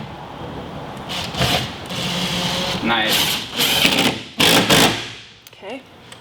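A power drill whirs in several short bursts while climbing boulder holds are set, the bursts separated by clattering and handling noises, with brief speech in between.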